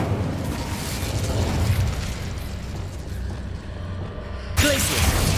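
Incendio fire spell in Hogwarts Legacy roars as a loud, crackling burst of flame with a rumbling low body, easing slightly before a fresh sharp eruption flares up near the end.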